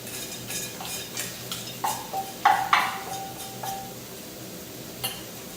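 Bacon and Brussels sprouts stirred in a pan, with scattered light clinks and scrapes of a utensil against the cookware, a few sharper knocks in the middle, no talking.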